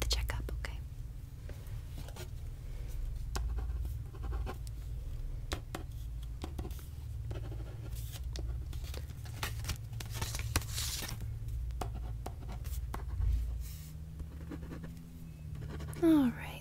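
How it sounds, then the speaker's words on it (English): Pen scratching across paper during a veterinary checkup roleplay, soft close strokes and small scribbles running steadily under faint whispering and light rustles. "Just give me 1 second to write a few things down"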